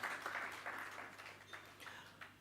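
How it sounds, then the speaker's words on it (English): Audience at a Baroka FC sponsor launch event applauds for relatives standing in the room, a soft, fairly distant patter of clapping with a faint steady hum underneath, no talking. "But let's give them a round of applause."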